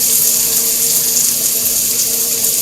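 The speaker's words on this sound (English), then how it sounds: "deglaze this with wine, just regular white cooking wine" Shallots deglazed with regular white cooking wine hit a hot pan, a loud, steady, hissing rush of bubbling liquid over a faint hum, with nobody speaking.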